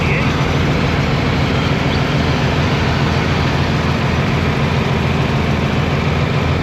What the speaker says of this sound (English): Here's a nice tractor.